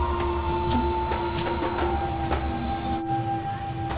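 An Indian passenger train on the line to Villupuram junction pulls away: a loud, steady rolling rumble with a sustained mechanical whine and intermittent clanks and knocks from the carriages.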